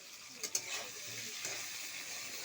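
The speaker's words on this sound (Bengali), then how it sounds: "হলুদ গুঁড়া দিয়েছি, নুন দিয়েছি, সামান্য নাড়াচাড়া করব" Turmeric powder and salt stirred in a frying pan with a steady soft sizzle, a couple of brief utensil scrapes near the start and another a second later.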